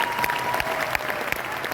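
An audience in a Hindi-language coaching-centre speech event breaks into applause, a dense run of close hand claps with a few sharper peaks, steady and loud throughout.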